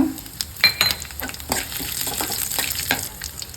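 Chana dal and red chillies frying in hot oil for a brinjal curry, a steady close crackling sizzle with scattered pops and light stirring scrapes.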